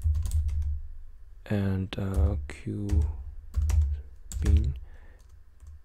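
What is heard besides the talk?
typing a command on a computer keyboard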